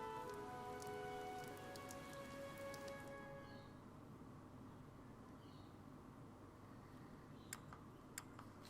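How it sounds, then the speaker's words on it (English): Steady rain pours in Fire Emblem Three Houses, a dense, even hiss of drops on surfaces with a few faint ticks near the end, while a soft musical tone fades out over the first few seconds. "This rain threatens a coming storm."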